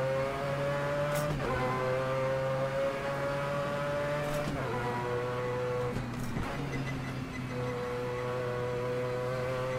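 A Mazda 787B rotary-engined race car lapping Spa in a sim racing game. Its engine gives a loud, buzzing, harmonic-rich scream that holds steady through the gears, with sharp dips and pops at each shift.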